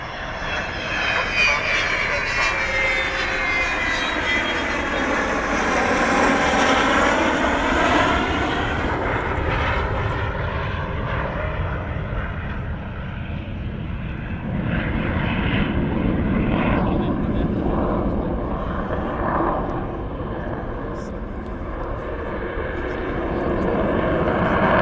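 A Vulcan bomber flies past with its wheels down at Dunsfold in 2015, a loud, sustained jet roar that swells and sweeps in pitch as it passes, with a crowd murmuring beneath the engines.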